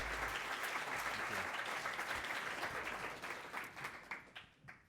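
Audience applause at the City Club of Cleveland welcoming speaker Calvin Gladney, a dense sustained round of clapping from a large room that tapers off near the end.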